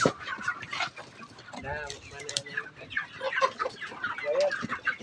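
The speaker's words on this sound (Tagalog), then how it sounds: "Natutulog lang ang mga manok." Chickens cluck and murmur nearby in a busy farmyard, with soft, overlapping calls throughout and a person talking quietly underneath.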